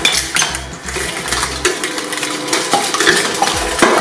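A gear shredder machine crushes a slime ball, giving a steady loud metallic grinding and clattering with a rhythmic low mechanical pulse throughout.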